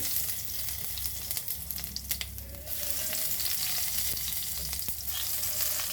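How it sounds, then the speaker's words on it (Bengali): Dried red chillies and whole cumin seeds sizzle in hot mustard oil, a close, continuous frying hiss that swells and fades with stirring and is broken by small scraping clicks. "তো তেলটা গরম হয়ে গেছে, পুরোটাই সর্ষের তেলে করছি। আমার তেলের মধ্যে আমি দিচ্ছি দেখো শুকনো লঙ্কা, গোটা সাদা জিরে"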